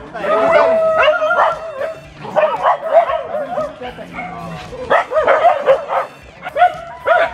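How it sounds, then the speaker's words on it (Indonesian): A blind dog that has fallen into a pond whimpers, yips and barks in a continuous run of loud, close, distressed cries, with voices mixed in. "Itu anjingnya ternyata buta. Tiba-tiba nyemplung ke dalam empang nih."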